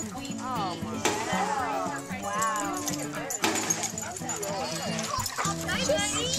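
Poodles at a dog party in Santa Rosa, California, bark and yip in repeated short bursts, close by, over constant chatter from people talking throughout.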